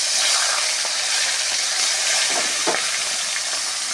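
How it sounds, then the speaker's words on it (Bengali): Pieces of rohu fish fry in hot oil in a kadai wok with a loud, steady, close sizzle and a few soft crackles, and no voices. "মাছগুলো ভেজে নিচ্ছি।"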